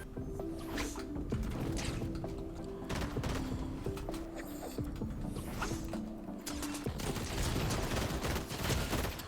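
Rapid gunfire in the video game Blitz Royale, a dense stream of sharp clattering shots and mechanical clicks throughout, fairly quiet and continuous with brief bursts.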